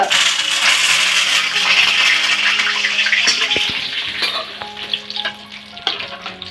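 Coconut pakoda batter frying in hot oil, a steady bright sizzle throughout that eases toward the end, with occasional clinks and taps of a ladle against the pan.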